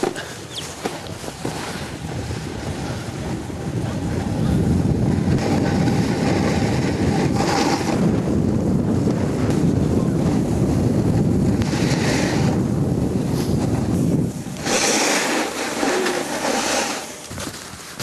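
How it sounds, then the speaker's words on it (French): Steady wind rushes and buffets the microphone on the Balme ski area in the Chamonix valley, building louder in gusts with a low, rumbling roar throughout. "Il y a un petit peu plus de vent."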